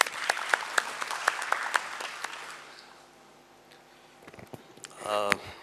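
An audience at the S P Apparels stock listing ceremony claps with distinct, spaced claps that fade to a quiet lull before a voice begins speaking.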